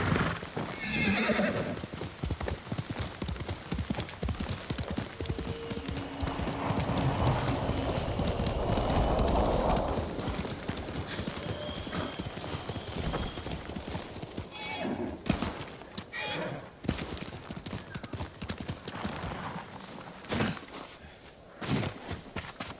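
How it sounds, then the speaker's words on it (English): A horse in the Ghost of Tsushima game gallops with rapid, continuous hoof clip-clops, then gives a loud neigh near the end, with hooves slowing to a walk. "Horse!"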